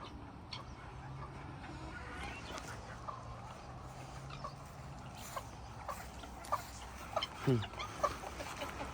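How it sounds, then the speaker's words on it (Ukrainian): Chickens and roosters cluck on an eco farm, soft scattered clucks rising to a few louder calls near the end, with people talking nearby. "Курочки, півники."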